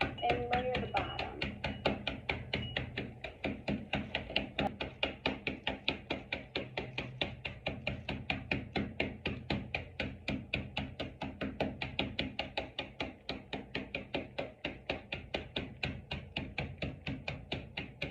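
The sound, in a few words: crushing cookies with a spoon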